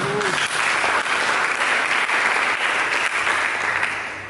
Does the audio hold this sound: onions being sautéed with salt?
no